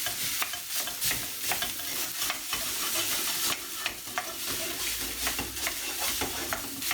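Egg sizzles in an oiled wok with rice and mash while a utensil stirs and scrapes, giving a continuous close frying hiss broken by frequent sharp scraping strokes.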